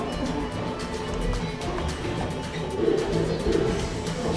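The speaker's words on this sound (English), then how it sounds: "is that a real owl?" An owl gives soft, low, repeated hooting calls amid steady outdoor background noise, the hoots muffled and moderately close, recurring a few times over several seconds.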